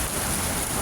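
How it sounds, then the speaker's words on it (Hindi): Heavy rain pours down in Houston, Texas, a dense, steady roar of drops drumming on surfaces, loud and continuous with no voices. "इतनी तेज़ बारिश हो चुकी है"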